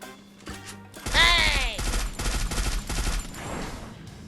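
Gunfire in the Free Fire battle royale game: a loud burst of several rapid shots with sharp cracks and a brief ringing tail, followed by more scattered gunfire and game effects for a few seconds.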